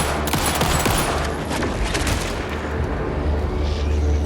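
Dense, continuous gunfire in the horror game Alan Wake II, rapid overlapping shots and booming blasts forming a loud, sustained barrage with no clear pauses.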